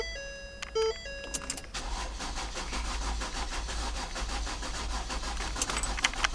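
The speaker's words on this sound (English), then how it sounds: "It does not start, it just cranks." A 2013 Ford Explorer Police 4WD engine cranks without catching: after a key-on chime and a few beeps, the starter turns over in a steady rhythmic chug that keeps going without the engine firing.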